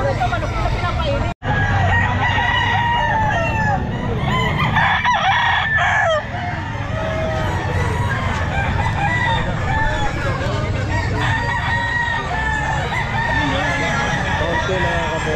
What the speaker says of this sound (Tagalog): Ito manok na pinapainit.